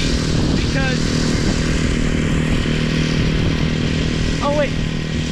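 A small engine revs and whines up close, with a steady mechanical drone and brief rising pitch sweeps near the start and end.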